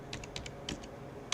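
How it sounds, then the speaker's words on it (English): Faint keystrokes on a computer keyboard, a handful of quick clicks in irregular bursts with pauses between, heard close but quiet in a quiet room. "Sounds like somebody's typing."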